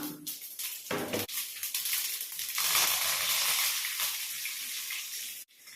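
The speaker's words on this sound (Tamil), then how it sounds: "கடுகு ஆட் பண்ணுறேன் கடுகு நல்லா பொரிஞ்சதும் கருவேப்பிலை ஆட் பண்ணிக்கலாம்" Mustard seeds crackle and splutter in hot oil in a pan while ghee kara dosa masala is prepared, a dense continuous sizzle with sharp pops that swells midway and stops abruptly near the end.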